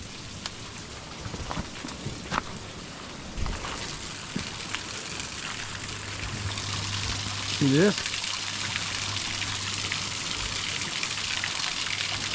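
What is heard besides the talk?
flowing stream water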